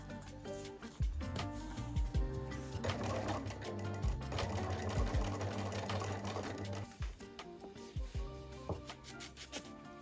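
A sewing machine runs in bursts of rapid stitching as both edges of a shirt sleeve are secured with repeated back stitches, the motor whirring close by with short pauses and handling noises between runs.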